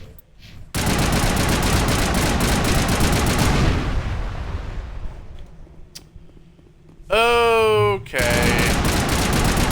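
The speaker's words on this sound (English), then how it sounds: "I just have to shoot them until they explode." Rapid bursts of automatic gunfire in the Mass Effect Legendary Edition video game, shooting at conduits until they explode, loud and sustained, fading out midway, then a brief warbling electronic tone before the firing resumes, with a short spoken word.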